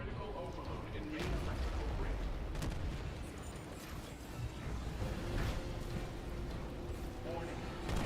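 Explosions going off during a Midnight Crew level of the Expired Soda video game: loud, continuous rumbling blasts and crashes across the whole stretch, with talk layered over them.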